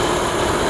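Renault car engine idling at close range, a steady low rumble with a constant mechanical hum and no speech over it.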